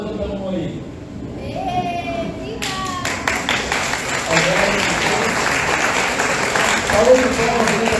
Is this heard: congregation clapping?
yes